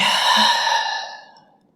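A single deep exhale during a vinyasa yoga flow, moving into downward dog, close and breathy, fading out over under two seconds with no talk.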